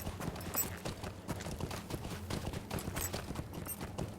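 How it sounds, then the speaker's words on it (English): A Matham horse trots in the video game LOTRO (Lord of the Rings Online), its hooves beating a quick, steady, close rhythm throughout with no speech over it. "Let's pull up our Matham horse"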